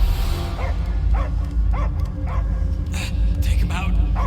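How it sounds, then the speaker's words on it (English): A dog in the video game Guardians of the Galaxy barks in a series of evenly spaced yips over a loud, rumbling game soundscape, followed by a couple of deeper, louder barks. "I hear only barking."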